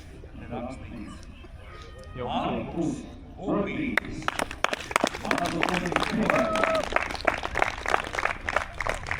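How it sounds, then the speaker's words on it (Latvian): Outdoor autosprint awards ceremony where a crowd breaks into loud, sustained clapping and cheering after a stretch of speech, the applause continuing to the end. "Skaļākie aplausi."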